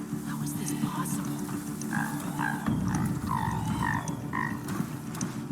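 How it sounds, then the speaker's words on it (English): In the Horizon Zero Dawn video game, a mechanical creature gives off repeated croaking, gurgling calls in an uneven rhythm over a dense, steady rumbling game ambience. "That was robot noise."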